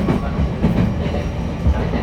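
Onboard running sound of a refurbished JR East E231 series 1000 train on a Shonan-Shinjuku Line rapid service between Oyama and Akabane: a steady low rumble with rhythmic wheel clatter over rail joints, heard from inside the car.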